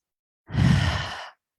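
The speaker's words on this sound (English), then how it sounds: "I'm going to induce some deep breathing" A single deep breath, a long, close exhale like a sigh lasting under a second, alone in silence.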